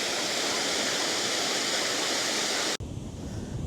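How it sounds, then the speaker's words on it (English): Water pouring off a dam in freezing mid-20s weather, a steady broad roaring rush close by that cuts off abruptly near the end, leaving a quieter, softer wash of water. "the water falling off the dam"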